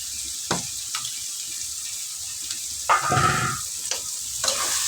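Soya chunks (meal maker) stir-fried in a pan for a home-style poriyal, with a spatula scraping and tossing between bursts of close, steady sizzling and a few sharp metal clinks.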